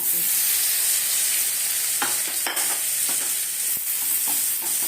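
Tomato pieces, green chilies and onions fry in oil in a kadai, a steady close sizzle and hiss broken by a few sharp scraping stirs of the spatula against the pan.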